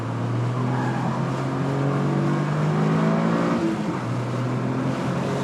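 A Toyota GR Corolla driven hard on a race track in track mode, its engine droning loudly and steadily with rising and falling revs throughout, no voices.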